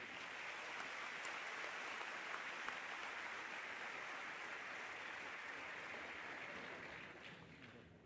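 Students at a high school veterans assembly give the wind symphony another round of clapping, a faint, continuous crowd applause that holds steady and tapers off near the end.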